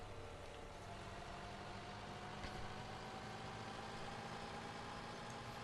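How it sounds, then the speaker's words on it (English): A cheap, slow tractor in Farming Simulator 17 runs at a steady low drone with a constant engine rumble and no clear changes in pitch. "This tractor is a bit slow. This is one of the cheap ones."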